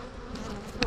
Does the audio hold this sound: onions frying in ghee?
no